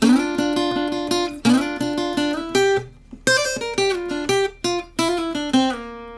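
Electric guitar plays two bluesy licks back to back, with bent notes, quick runs and ringing sustained tones, clear and loud with no voices.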